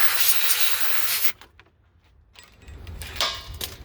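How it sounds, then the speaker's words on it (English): WD-40 aerosol sprayed in a steady loud hiss for just over a second during a VW Jetta/Golf/Beetle Mk4 ABS flush, followed by a quiet pause and softer handling noises. "now we just spray some WD-40"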